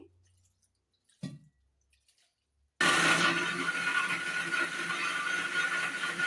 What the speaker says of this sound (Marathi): आता मी हे सगळं वाटायला घेते.